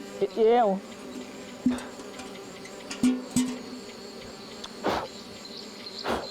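Bees buzz near a honey hive in the Kenyan bush. Several loud, close buzzing passes rise and fall over a quieter outdoor background.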